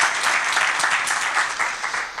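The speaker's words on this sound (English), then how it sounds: "Give a round of applause for Dave, ladies and gentlemen." An audience applauds steadily for a volunteer, a dense, continuous patter of many hands clapping at close range, sustained and even throughout with no voices rising above it.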